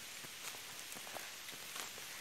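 Steady rain patters on a surface during a downpour, a soft continuous hiss with scattered individual drops, fairly faint and with no voices.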